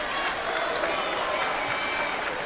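Steady applause and crowd noise from basketball fans in an arena during a men's college championship semifinal, a continuous mid-level wash of clapping heard from a distance with no clear individual claps.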